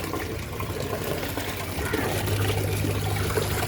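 Soapy water heavy with detergent is poured out from hand-washed clothes, a continuous close splashing and gushing that grows slightly fuller toward the end.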